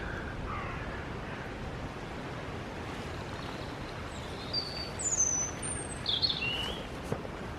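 Birds singing among bluebells, stitchwort and garlic in a woodland patch, faint high chirps and brief trills over a steady rushing background.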